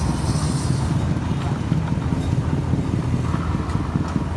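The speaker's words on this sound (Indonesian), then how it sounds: "suara mesin sama suara CVT dia tergabung suaranya hingga dia menimbulkan bunyi yang khas ya" A motorcycle idles with its engine and a worn, loose CVT transmission running together, giving a steady low rattling hum with irregular knocking, close and moderately loud.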